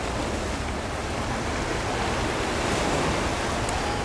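Sea waves wash steadily at Stanley Beach in Hong Kong, facing the South China Sea, as an even roar of surf mixed with some wind noise.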